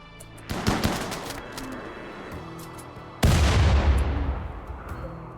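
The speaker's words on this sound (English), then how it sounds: "And the shield blocked the grenade." A grenade blast absorbed by a shield in RimWorld's Odyssey expansion: scattered game gunfire pops first, then a sudden loud, sharp burst erupts midway and rumbles on to the end.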